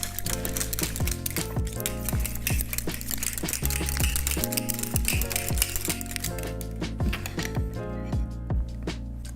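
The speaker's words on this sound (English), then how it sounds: "So we're gonna shake it again." A cocktail shaker holding a metal shaker ball is shaken hard with an egg-based drink, giving a loud, fast, continuous rattling and clanking that runs steadily throughout.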